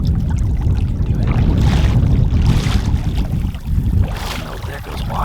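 Water splashes and pours over the tops of boots while someone wades on Montana public land: loud, close, rushing surges in uneven bursts, with no talking.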